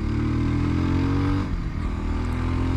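A Voge 300 Rally adventure motorcycle accelerating hard, its engine droning loud and steady with a rising tone, then briefly easing around the midpoint before pulling on again.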